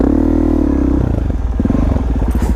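A Suzuki dirt bike rides through ruts, its engine droning loud and close with shifting pitch, then a choppy, uneven revving as it bounces along.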